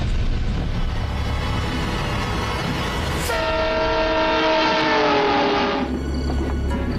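A moving train rumbles steadily throughout with a dense roar, and partway through a long horn blast sounds over it with rich harmonic tones before cutting off, leaving the running noise.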